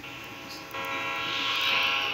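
A train passes at a Halloween train event, its steady rumbling roar building slightly in loudness over a couple of seconds, with a tonal, whistle-like hum above it and no talk.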